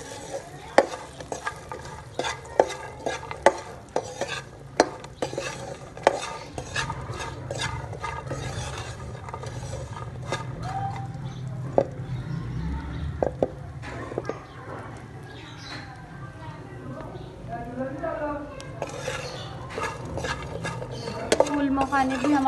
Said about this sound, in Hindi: हम लोगों ने इसमें छोटे से घी डाल दिया और इसको भुनाएंगे